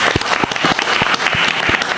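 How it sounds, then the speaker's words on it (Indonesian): A short burst of clapping from a small group, irregular claps rattling along steadily for a couple of seconds. "tepuk tangan buat kalian"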